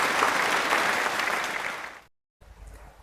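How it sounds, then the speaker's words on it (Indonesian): Classroom applause for a student group, a burst of many hands clapping together for about two seconds that fades out, followed by a short silence and faint room noise. "Ayo, kita berikan aplaus kepada kelompok 1."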